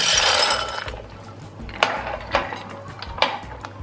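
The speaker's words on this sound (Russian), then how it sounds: "Вода у меня уже закипела. Я ее солю. Отправляю вариться макароны." Pasta dropped into a pot of boiling salted water while cooking shrimp pasta, a rushing clatter at first, then a few sharp metallic clinks of a pot and utensil over a low background hum.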